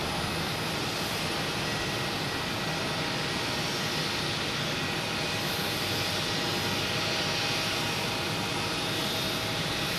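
JetBlue airliner arriving from Aruba at Boston Logan gives an unbroken, even engine roar with a high whine on top, steady and moderately loud with nobody speaking.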